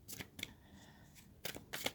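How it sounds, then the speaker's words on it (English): Tarot cards being shuffled make quick papery riffling bursts, a few short clustered flicks separated by pauses, soft and close with no talking. "I'm shuffling up your cards"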